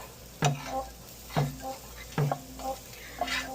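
Garlic sizzles in a pan for stuffed pork tenderloin. A quiet, steady frying hiss is punctuated by four ringing clinks of a utensil against the pan at roughly even intervals.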